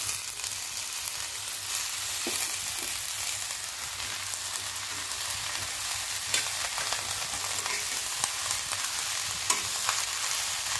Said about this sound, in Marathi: आता ही भाजी परतून घेऊया